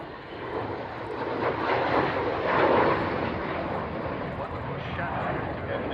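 An aircraft roars overhead at the Royal International Air Tattoo air show, a broad, rumbling engine noise swelling to a peak and then fading slightly, with a commentator talking over it.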